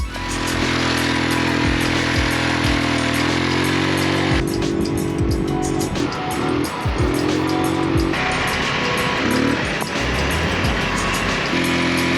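An old Toyota drives through the jungle, its engine a loud, continuous drone that rises and falls as it revs and shifts, close to the recorder, with rattles and rumbles from the rough ground.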